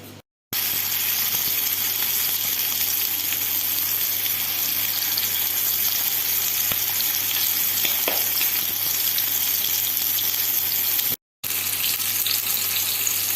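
Chapli kababs fry in a pan with a steady, close, continuous sizzle and crackle. The sound runs unbroken except for two brief cuts near the start and near the end, with no talking.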